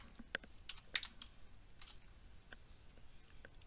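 Quiet computer keyboard typing, a scatter of light irregular key clicks with one sharper tap near the start, close by and alone with no talking.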